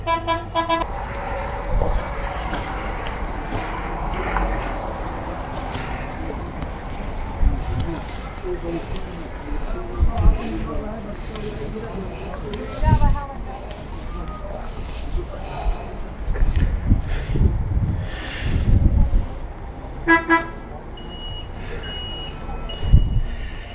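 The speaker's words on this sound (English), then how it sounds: "So this is where all the buses come." Buses and road traffic at a bus drop-off area, with engines rumbling, reversing beeps and short horn toots rising from the busy lot while someone talks over the noise throughout.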